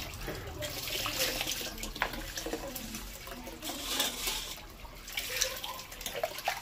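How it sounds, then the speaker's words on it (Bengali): Tap water runs while small mola fish are washed, a soft, steady splashing stream with irregular surges and spatters, fairly faint and alone without talk. "জলটা একটু চালিয়ে দেয়"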